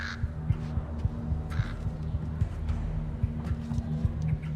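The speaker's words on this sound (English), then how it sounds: "Freaking bird in here." Crow-like cawing from a bird in the stealth video game Thief, a few short calls over a steady low in-game hum and ambience.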